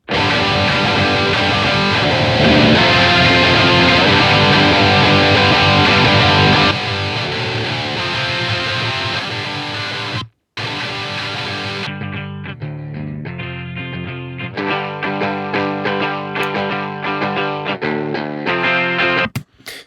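Heavily distorted electric guitar chords through a heavy amp plugin ring out loud and sustained, then cut briefly before a tighter, choppier riff with palm-muted bursts.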